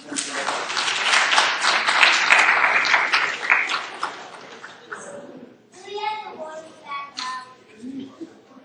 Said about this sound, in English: a big round of applause for my helpers